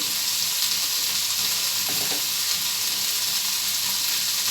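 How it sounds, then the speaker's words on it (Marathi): Cauliflower curry sautés in a pan with a steady, close sizzle, joined by a few brief scrapes and knocks as it is stirred and mixed with coriander. "छान परतून घ्यायचे मिक्स करून घेऊया"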